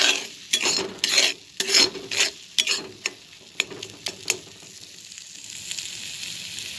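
A quick home dish frying in a pan is stirred with a utensil. Close scraping strokes come in a rhythmic series over a soft sizzle, then thin out to occasional taps as the frying hiss carries on alone.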